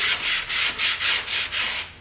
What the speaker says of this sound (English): Again, I'm sanding across the grain right here,